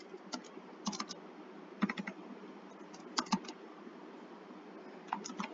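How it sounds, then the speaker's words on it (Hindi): Typing on a computer keyboard while filling in user details, with clustered bursts of sharp close key clicks separated by quiet pauses over a steady low hum. "इधर मैं जो है वो लिख देता हूँ यासीन अहमद, और इसी तरह मैं यहाँ पे लिख देता हूँ"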